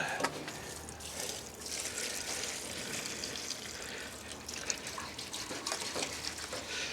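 Old gasoline being poured out of a rusty tank after agitating it, a steady close splashing, trickling stream of liquid running for several seconds without pause.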